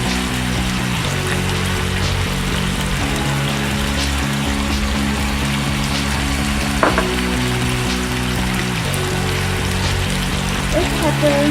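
Wild mustard greens and pasta sizzle and crackle steadily in a pan over high heat, with occasional scraping clicks of stirring and a low steady hum beneath.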